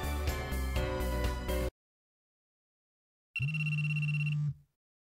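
A telephone rings in the PS4 dating game LoveR: a loud electronic ring burst, a silent gap, then a second tonal ring that fades out, with no talk.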